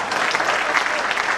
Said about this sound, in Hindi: तालियां बहुत कमजोर है